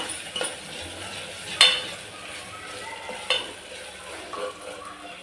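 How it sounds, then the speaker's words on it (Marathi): Onion and ginger garlic paste fry in oil with a soft, steady sizzle, punctuated by a few sharp metallic clinks of a spoon against the pan, close by and without talking. "अशा प्रकारे आपल्याला भाजून घ्यायचं आहे कांदा छान तेलावर"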